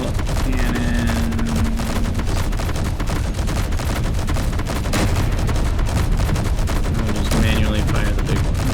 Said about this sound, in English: Let's do assault cannon.